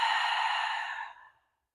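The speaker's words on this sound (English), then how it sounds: "And exhale." A slow, steady exhaling breath during a seated yoga twist in a hatha practice, close and soft, sustained for over a second before fading into silence.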